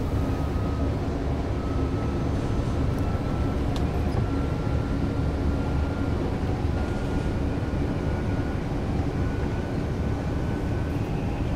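A short train rolls past in Train Sim World 4 on the Vorarlberg route, a steady dense rumble of wheels and traction noise with faint tonal whine, holding constant throughout without talk.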